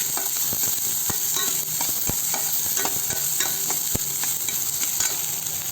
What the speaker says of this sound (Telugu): ఒక నిమిషం అట్లా వేగనివ్వాలి.